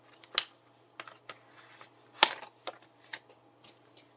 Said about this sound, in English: Let me get the card out.